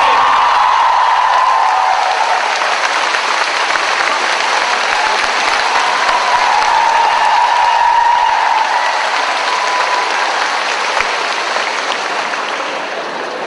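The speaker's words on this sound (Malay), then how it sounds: "kita beri tepukan kepada Universiti Sains Islam Malaysia" Sustained, even applause fills a hall for the Universiti Sains Islam Malaysia team at a Prime Minister's Cup Malay-language debate final, a loud unbroken wash of clapping with no talk.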